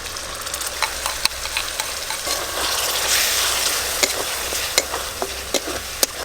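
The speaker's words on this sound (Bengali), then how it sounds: "মশলার পেস্ট দিয়ে দেব।" Spice paste for a pointed gourd curry fries in hot oil as it is stirred, giving a loud steady sizzle with sharp scraping clicks from the spoon against the pan.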